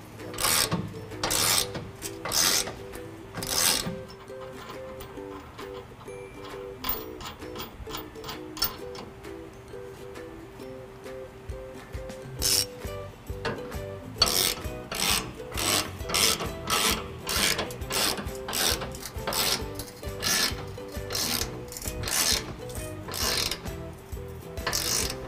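Close, repeated ratcheting and metallic wrench clicks while bolts are snugged up during a trailer hitch install on a 2015 Ford F-150, in steady bursts over a faint mechanical background with no talk.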